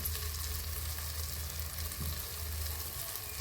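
Onion and tomato masala with salt fries in a pan as it turns brown, giving a constant soft sizzle with a low background hum. It is steady and close but quiet, with one faint scrape partway through.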